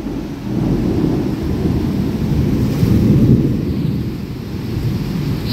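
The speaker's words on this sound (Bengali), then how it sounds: "শুনতেই পাচ্ছ আকাশটা এত গুড়গুড় করছে" Low, continuous rumbling thunder rolls across the sky in a long, unbroken swell, with a windy hiss over it and no voices.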